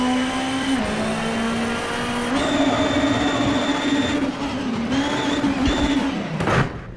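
Rally car engine in the WRC 8 racing game revving steadily with pitch shifts at gear changes, loud and continuous throughout, ending with a brief burst of noise.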